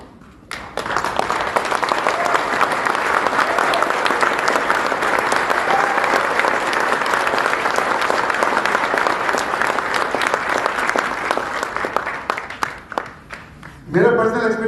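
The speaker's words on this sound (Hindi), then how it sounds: "साथियों 1 मिनट 30 सेकंड खड़ा होकर तालियां बजाएगा।" A business-networking audience at a lecture in Indana Palace, Jodhpur, stands and claps for a long stretch, dense and even, tapering near the end before a voice returns.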